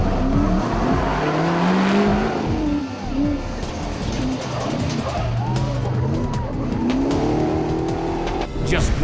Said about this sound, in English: The #1 Riviera trophy truck, driven by Mark Post, leaves the start at 9:36 a.m.